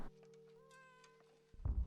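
A cat meows in the Layers of Fear video game, a single long, steady, tonal meow held for over a second, with a soft thud at the end.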